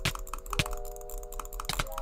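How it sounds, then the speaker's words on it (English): A Glorious Model O gaming mouse is butterfly clicked at high speed during a game fight, producing rapid, irregular, sharp clicks close up over a faint steady game tone. "butterfly clicking at high CPS does work really well"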